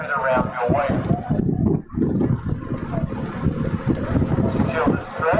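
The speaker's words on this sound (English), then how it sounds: "Pretty windy out here." Strong wind rushes and buffets steadily outdoors, a loud continuous roar with a brief lull in the middle, and a voice speaks faintly underneath.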